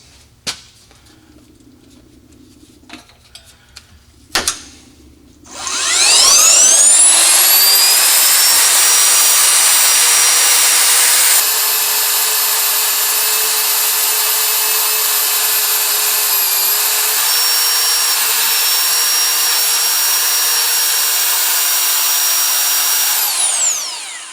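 A few sharp clanks, then a powerful magnetic drill motor spins up to a loud, steady high-pitched whine, drilling holes in steel, that holds for many seconds before winding down.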